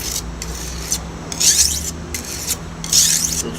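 A blade being sharpened on a sharpening stone, with a close, rhythmic series of gritty rasping strokes that come in pairs and have short gaps between them.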